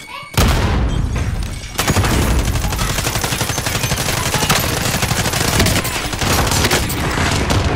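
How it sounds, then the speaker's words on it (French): In Call of Duty: Modern Warfare, a frag grenade bursts with a loud boom, followed by a second blast. Dense, continuous automatic gunfire rattles on at close range, packed with rapid overlapping shots. "J'envoie une grenade frag."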